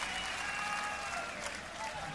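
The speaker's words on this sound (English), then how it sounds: "I just wanted to get you clapping." Audience applause fills a concert hall during a show at Rockpalast in 2009. The clapping is a dense, steady wash that holds at an even level throughout.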